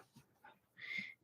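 A dog pants and breathes close by in quick, soft bursts, with faint whimpery tones and one louder breathy huff, otherwise quiet.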